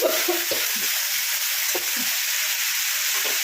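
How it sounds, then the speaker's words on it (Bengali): Mixed summer vegetables, including pumpkin, are stirred in a hot pan under a constant sizzling hiss, with several scraping strokes of the spoon. "এটাকে একটু ভালো করে নাড়িয়ে নেব"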